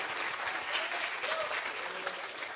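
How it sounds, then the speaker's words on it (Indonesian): An audience at a business seminar claps together, a loud, continuous burst of applause filling the room for a couple of seconds with little else over it. "sok silakan mau tepuk tangan."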